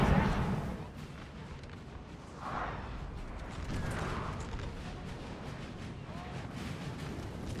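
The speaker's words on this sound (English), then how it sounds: "Now I do see these guys are getting a duel off with artillery." Artillery duel in the Napoleon Total War video game: distant booming cannon fire rolls through a low, continuous battle rumble, with occasional heavier thuds rising above the din.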